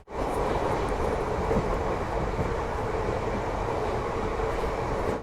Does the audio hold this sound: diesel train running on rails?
yes